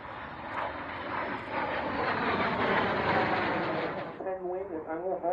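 A jet with an afterburning engine roars loudly past at the 2013 RAF Waddington airshow, a sustained blast that drops away near the end as a voice begins talking.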